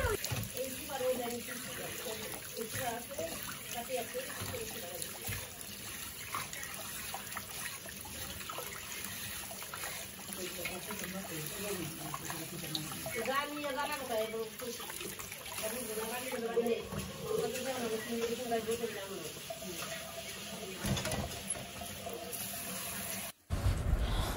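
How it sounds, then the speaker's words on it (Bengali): Polao rice and mung dal washed under running water, a continuous faint trickle and splash that runs throughout beneath background sounds. "এখানে আমি খিচুড়ির জন্য পোলাওয়ের চাল আর মুগ ডাল ধুয়ে নিচ্ছি"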